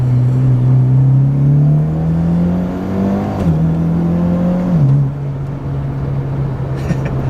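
Mitsubishi Lancer Ralliart engine revving hard under acceleration from inside the car, a loud droning whine climbing in pitch, dipping briefly at a shift, then rising again.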